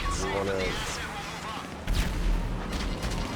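Missiles firing from the Vigilante vehicle in GTA 5 Online: booming launches and blasts under continuous engine noise, with someone talking over them.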